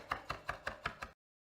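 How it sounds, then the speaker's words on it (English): A knife chopping garlic on a board with the cross chopping method: six crisp, evenly spaced chops in quick rhythm, close and clear, then silence. "if you want it really fine, use the cross chopping method"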